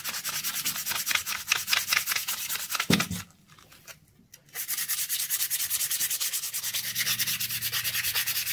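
Sandpaper scrubs rust off a Suzuki DR200 rear wheel part in quick, rhythmic rasping strokes, close and fairly loud, with a brief pause midway before the rubbing resumes steadily.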